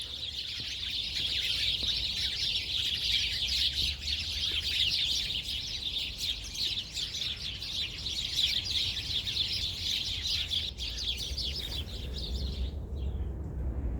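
Dense chorus of many small birds chirping and twittering together, continuous and lively, then abruptly falling silent at the end.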